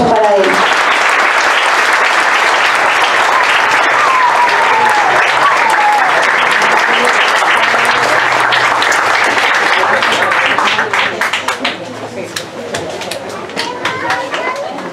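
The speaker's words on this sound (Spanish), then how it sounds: "un aplauso para él." Loud, sustained audience applause at a book presentation honoring author Dante Medina, thick clapping mixed with crowd chatter that fades and thins after about eleven seconds.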